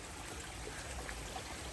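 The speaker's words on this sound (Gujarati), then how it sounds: "જો અહીંયા પાણી આવ્યું" A forest stream flowing along a jungle trail at an adventure park near Saputara, heard as a steady, soft broadband rush of running water throughout, fairly distant and even, with no talking.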